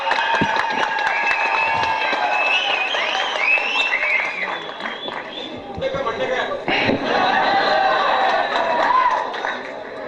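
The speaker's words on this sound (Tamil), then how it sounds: "ஞானக்கிழக்கன் என் பேர் சொன்னதும் கைத்தட்டி விசில் அடிச்ச உங்க எல்லாருக்கும் என்னுடைய நன்றி" An audience at a film audio launch applauds loudly and continuously for director R. Parthiban, with dense clapping, crowd noise and whistles filling the whole stretch.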